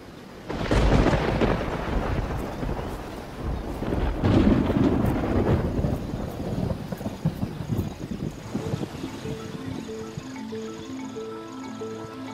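A summer thunderstorm breaks over Kruger, with a heavy rolling rumble of thunder and dense rain noise that gradually eases while soft tonal music rises.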